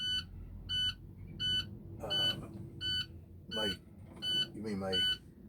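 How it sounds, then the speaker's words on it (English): A vehicle's low air pressure warning beeps repeatedly in a steady rhythm of short tones while people talk over it, with a low engine hum underneath. "So you got your audible, your beeping noise, right?"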